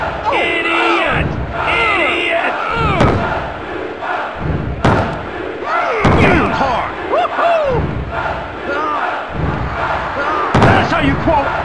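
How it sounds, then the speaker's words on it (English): Video game wrestling crowd from WWF Attitude cheers and roars loudly in repeated surging waves, with thuds and slams from the ring mixed in. "Listen to this crowd."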